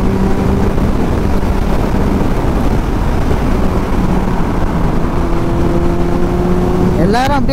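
A Kawasaki Z800 superbike rushes along at high speed, its engine drone steady and loud beneath heavy wind noise, with a voice speaking over it throughout and a brief rising whine near the end.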